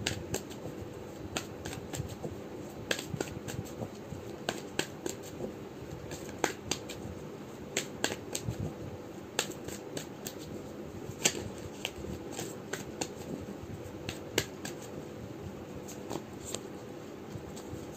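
Tarot cards are shuffled and handled in a quiet room, a long run of soft riffling and sharp card flicks and snaps at irregular intervals, close and fairly faint with no talk.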